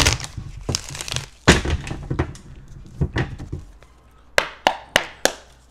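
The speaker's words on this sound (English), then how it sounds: "One more shuffle." Tarot cards shuffled by hand in a messy, irregular way: a run of dry slaps, riffles and taps, a few louder bursts near the end, close up and without talk.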